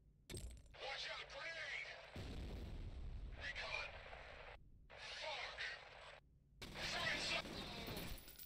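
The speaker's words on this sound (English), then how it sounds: "Goddamn impact grenades." Impact grenades in F.E.A.R. bursting in several loud, harsh blasts with shattering debris, separated by brief near-silent gaps, with a voice heard between them.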